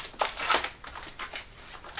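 A plastic bag crinkles as it is handled while unpacking a box of laser-cut model railway building parts, a few soft rustling bursts, close and quiet.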